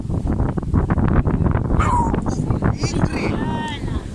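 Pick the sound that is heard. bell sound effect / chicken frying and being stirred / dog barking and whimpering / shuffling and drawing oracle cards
dog barking and whimpering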